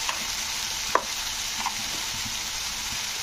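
Chili and turmeric powder with tomato and salt being fried in oil for a kalibaus fish curry, a soft steady sizzle with a few sharp stirring scrapes, close but quiet.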